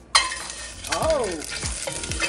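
Eggs drop into a hot pan for a bitter gourd curry and burst into a loud, sudden sizzle that keeps crackling, with a few bubbling and sputtering swells over it.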